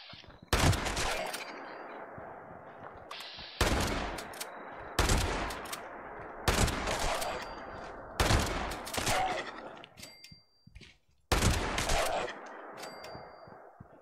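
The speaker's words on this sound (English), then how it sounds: "Wow, this shotgun's powerful." Shotgun blasts from the video game Fallout 76 boom out one at a time, about six loud shots a couple of seconds apart, each with a sharp crack and a lingering tail, mixed with faint in-game effects.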